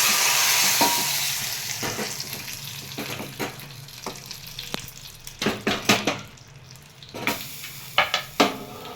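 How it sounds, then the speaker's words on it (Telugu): Tempering spices sizzle in hot oil for gongura and drumstick-leaf dal, the crackle rising and falling in bursts as a spoon stirs and clinks against the pan. "పోపు వేసుకోవటమేనండి"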